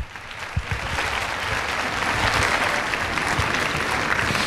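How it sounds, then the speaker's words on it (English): A crowd of fifth graders and audience members applauds at a youth ambassadors event, a loud, steady burst of many hands clapping that builds slightly after a few sharp early claps and carries on without talk. "Give yourselves a round of applause."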